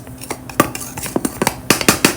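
Dry flour and baking soda being mixed in a bowl for corn and shrimp fritters, heard as a quick run of close, irregular metal clinks and taps of a utensil against the bowl, with no voices.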